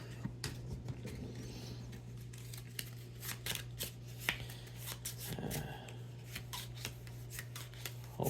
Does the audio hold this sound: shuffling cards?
yes